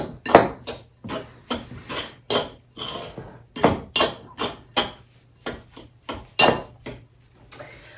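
Food being mixed in a bowl with a utensil for Halloween treats, a series of about fifteen irregular scraping and clinking strokes, close and fairly loud, with no talking.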